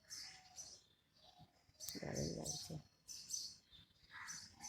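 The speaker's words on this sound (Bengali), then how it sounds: "পাখির ডাকগুলো শোনো" Several birds chirp and call in short bursts nearby in the early morning beside an empty road, with a person briefly speaking over them partway through.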